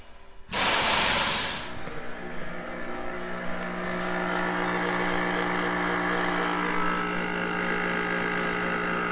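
Two air compressors wired to a tractor disconnect switch start up together with a loud onset and settle into a steady, continuous motor drone and hum while building pressure, close by with no talking.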